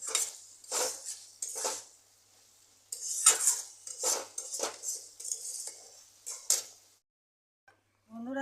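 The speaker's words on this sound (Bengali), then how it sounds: "আর একটু গরম মশলার গুঁড়ো দিয়ে ভালো করে মিশিয়ে নামিয়ে দেবো" A spoon clatters and scrapes in a pot as a long bean and potato curry is mixed, giving a series of close, irregular metallic strokes, then a short pause before one last stroke.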